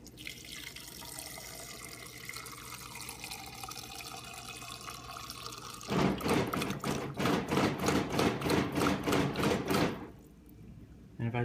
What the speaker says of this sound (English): it'll start to just put out some water eventually, but then it starts making some awful noise.